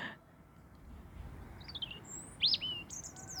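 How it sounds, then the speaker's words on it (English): A bird in an outdoor setting lets out a few short, high chirps and tweets partway through, faint against a steady low background rumble. "As this bird chirps"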